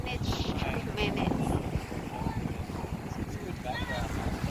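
Waves rolling onto a windy Australian beach, a steady wash of surf under gusty wind buffeting the microphone, with faint voices now and then.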